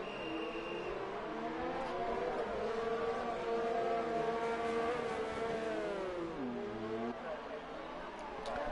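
F1 cars in the F1 2019 racing game at the Belgium circuit whine past with rising and falling engine pitch and gear changes, continuous and mid-level.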